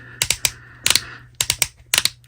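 Ratcheted thigh joints on a McFarlane Toys DC Multiverse Mr. Freeze action figure click sharply as the legs are swiveled, in four quick bursts of two or three close clicks each, alone with no talk.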